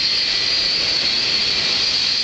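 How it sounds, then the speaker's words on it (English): Continental Boeing 757 departing St. Maarten, its jet blast a loud, steady roaring hiss that fills the whole stretch without letup, close to the listener and with no voices over it. "this is a 757 Continental departing St. Maarten"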